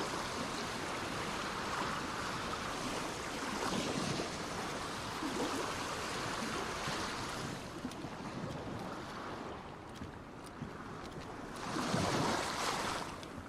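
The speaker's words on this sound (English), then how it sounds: "Why can I still hear the ocean like I'm in the water?" Ocean surf in DayZ on the Namalsk map: continuous rushing waves and wind-like wash, swelling now and then, steady throughout with no talk.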